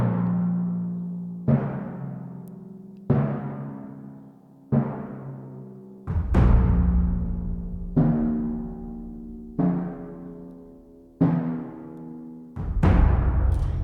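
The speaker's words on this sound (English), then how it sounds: "So just the drums on themselves," Isolated film-score drums play deep booming hits spaced about every one and a half seconds, each ringing out and decaying. The later hits grow heavier with added low thumps, and the track plays alone.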